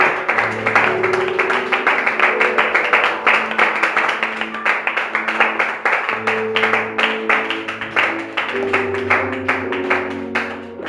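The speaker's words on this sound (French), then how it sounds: "Et nous nous tenons tous debout et nous applaudissons." A church congregation stands and claps together, a loud, steady rhythmic patter of many hands that runs throughout, with music playing underneath.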